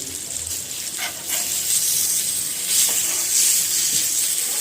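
Food sizzling in oil on a hot dosa tawa while making poondu rasam, a steady bright hiss that swells louder at moments, close and alone without talk.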